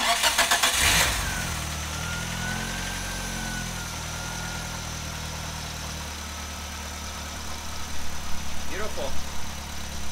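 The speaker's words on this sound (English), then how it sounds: "let's see if the car fired up" A Nissan Sentra B13 with a GA16 1.6 turbo engine cranks briefly and fires up after an ignition system upgrade, then settles into a steady, close idle with a slight rev near the end.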